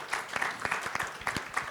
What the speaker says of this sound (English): Please, a round of applause for our moderator.